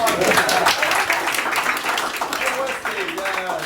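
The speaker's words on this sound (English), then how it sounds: "Let's give Stephanie a big round of applause." Applause from an audience at a small house meeting in Columbia, South Carolina, a continuous patter of clapping mixed with voices and cheering throughout.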